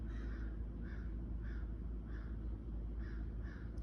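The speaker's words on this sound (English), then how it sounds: "Why are these crows in the background?" Crows caw in the background, a series of about six hoarse calls spaced roughly half a second apart, faint and distant over a steady low rumble of ambient noise.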